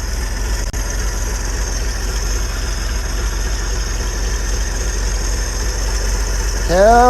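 The 300 inline-six of a 1981 Ford Bronco, just revived after 15 years parked, idles with a steady low throb and even vibration, close by, rising briefly at the end.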